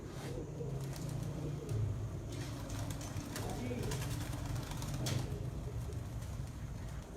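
Eight racing pigeons of a champion Punjab one-day race flock from Sialkot settle at their loft, with soft cooing and a few wing flaps under a steady outdoor hiss and faint distant voices.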